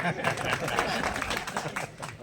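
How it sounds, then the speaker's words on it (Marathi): An audience claps at a speech event in a broad, sustained spread of hand claps, fairly close and steady, with crowd murmur mixed in. "वाजवून टाका एकदा टाळ्या"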